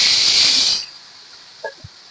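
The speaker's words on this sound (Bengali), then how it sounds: "এবার আমি দিয়ে দেব পেঁয়াজ কুচি।" Chopped onion dropped into hot oil with bay leaf and whole cumin for a snakehead fish curry, giving a loud bright sizzle that cuts off after under a second, then a few faint clinks.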